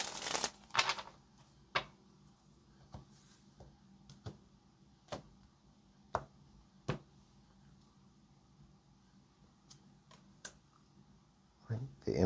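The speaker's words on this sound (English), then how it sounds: "let's get this last shuffle" A tarot deck is handled and shuffled close by, giving a riffle burst at the start and then scattered sharp taps and clicks, with a short louder shuffle at the end.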